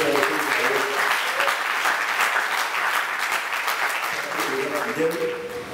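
A church congregation claps together, a dense wash of many hands rising and holding steady before easing off, with voices calling out underneath.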